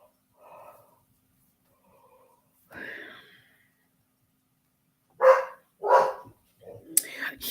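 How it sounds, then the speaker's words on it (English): A dog gives several short barks and snorting huffs up close, loud bursts in the second half after quieter scattered sounds, with a person talking around them. "He always has to find a way to bark, doesn't he?"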